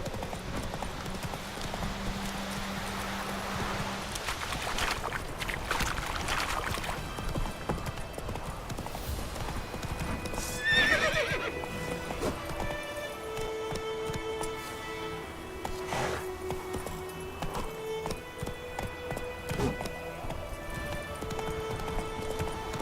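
Hooves of Roach, a horse in the video game Witcher 3, clip-clop steadily at a gallop throughout, close and fairly loud, with game music and ambient effects underneath and a brief whinny-like sound midway.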